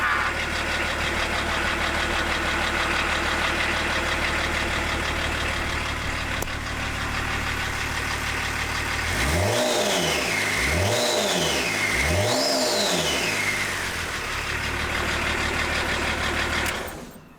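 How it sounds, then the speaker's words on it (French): A BMW 525 TDS diesel runs loud and close, with a rough clattering idle that rises into three quick revving surges and then settles before cutting off at the end. "T'as vu Gary, ça démarre."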